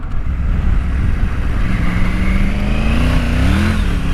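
An adventure motorcycle ridden on a dirt road gives a loud, continuous engine drone that stays close throughout, its pitch climbing gradually as the bike speeds up.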